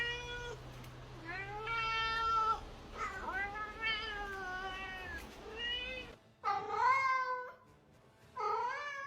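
Cats meow loudly and repeatedly up close, long drawn-out wailing calls in several bursts separated by short pauses, with no talking.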